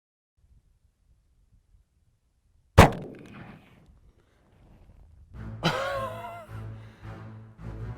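A single sharp .44 Magnum shot fired into layered bubble wrap cracks out of near silence, rings off briefly, and then gives way to a voice speaking.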